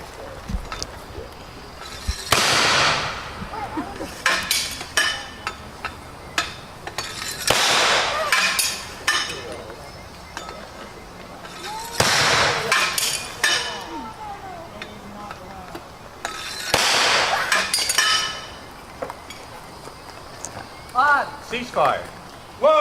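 Artillery guns fire rapid rounds at a historical reenactment at Yorktown and Jamestown, with four heavy booms spaced several seconds apart among shouted commands and crowd chatter.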